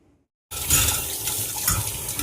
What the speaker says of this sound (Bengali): না ভালো করে মেজে ধুয়ে নিলাম